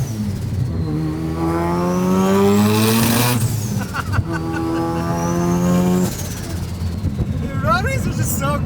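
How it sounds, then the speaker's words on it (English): A rotary-engined car with a large turbo revs hard through the gears in repeated rising pulls, the engine note climbing and dropping between shifts, loud and close, with a person talking over it. "This car's so insane, it has that classic, like, the rotary sound, you know?"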